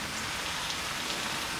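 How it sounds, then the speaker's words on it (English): Oyster sauce drizzled into a hot wok while cooking Cantonese coconut beef curry, a steady, dense sizzling hiss like heavy rain, even and continuous throughout with no talk. "Next, I'm going to drizzle some oyster sauce."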